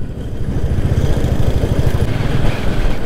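Motorcycle engine droning steadily while riding a mountain road in Himachal through a landslide area beside a river, loud and continuous with rapid low pulsing throughout.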